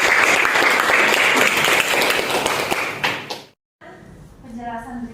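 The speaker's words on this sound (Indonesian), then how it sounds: "tepuk tangan buat kita semua" Applause from a room of teachers and colleagues at an Indonesian school gathering, a dense steady clapping for about three and a half seconds that fades out, followed by a pause and then a voice talking.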